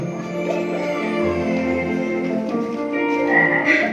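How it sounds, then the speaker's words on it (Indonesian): A frog croaks in repeated pulses over a busy, tonal backdrop, fairly close and steady for the whole stretch. "Itu kodok, Mak."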